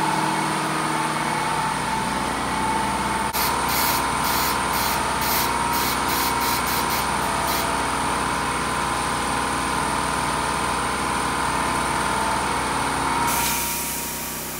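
A tire changer machine's assist arm with a cone attachment pressing down on a low profile wheel, a loud steady mechanical hum with a burst of rapid pneumatic clicks partway through, then a shift as the motor changes.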